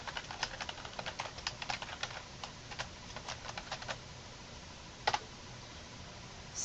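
Fingers typing on a computer keyboard in quick, irregular bursts of soft, close clicks, then a pause and a couple of isolated keystrokes, faint and with no talking.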